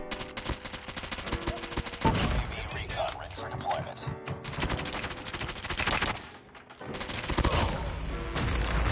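Rapid bursts of AS VAL automatic gunfire in COD Mobile, loud and dense with brief pauses between strings of shots, while a voice talks over the shooting.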